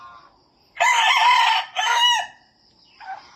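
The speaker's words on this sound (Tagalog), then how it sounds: "Marami siyang alaga pang manok dito." Texas breed rooster crowing among other chickens, one loud nearby crow in two strained bursts, followed by softer clucking.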